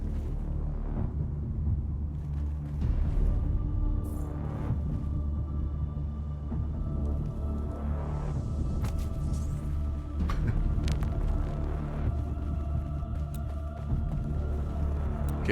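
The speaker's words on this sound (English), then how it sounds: "Okay, there's the storm." A sandstorm in the Dune game rolls in as a continuous low, heavy rumble with faint creaks and gusty rustles on top, steady in loudness and without voices.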